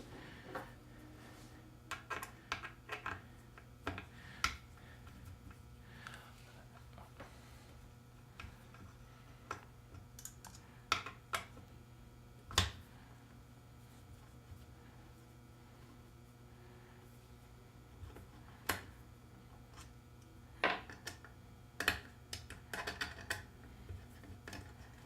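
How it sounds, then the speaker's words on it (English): Screws being undone on a router bracket make small, irregular metallic clicks and ticks, scattered and faint over a low steady hum, with no talking. "We're just going to sit around here awkwardly undoing these screws."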